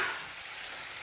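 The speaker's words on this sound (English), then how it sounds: "so you can just stir that up." Chicken and dumplings being stirred in a pot make a brief, steady close scrape and bubbling sizzle, heard alone.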